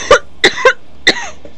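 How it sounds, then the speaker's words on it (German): A person coughs in four sharp, close bursts: two quick coughs, a third right after, then a final cough after a short pause. A faint trailing sound follows at the end, with no talking. "Nur noch am Husten."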